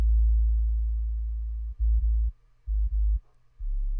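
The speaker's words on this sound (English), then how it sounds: "So I'm using the operator, basically just one oscillator set to a sine wave." A pure sine-wave sub bass from a single Ableton Operator oscillator plays as a deep, steady low tone, holding for nearly two seconds and then breaking into short pulsed notes with gaps of silence between them.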